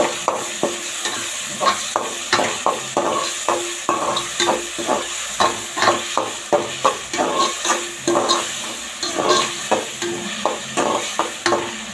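Ginger garlic paste sautéing in a pan for an eggplant and potato gravy, a steady sizzle broken by a rapid run of stirring scrapes, close and alone with no talk.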